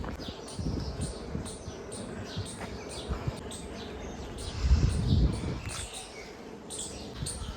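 Birds chirp repeatedly in quick, high tweets at evening beside a hill temple near Bhavnagar, over a low outdoor rumble, with a brief louder thump in the middle.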